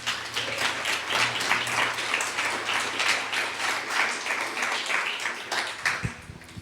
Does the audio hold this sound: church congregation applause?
yes